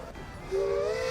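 A steam locomotive in the railroad game Railroader lets out a breathy hiss, then a sustained whistle blast rises over it near the end, fairly faint overall.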